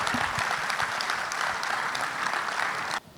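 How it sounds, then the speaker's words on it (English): A crowd applauds steadily in a dense wash of clapping for about three seconds, then it stops abruptly. "Please let the applause be better."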